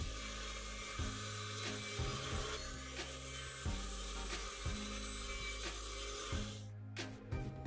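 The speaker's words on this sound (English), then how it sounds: "I cut some plywood sheets to build a frame out of them." Plywood sheets being cut for a frame with a power tool on a wood workpiece, a steady whining buzz with repeated dips as each pass is made, ending abruptly near the close.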